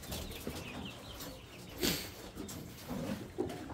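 Soft hen clucks come in a few short bursts over faint background noise. They are fairly close but quiet, and no one is talking.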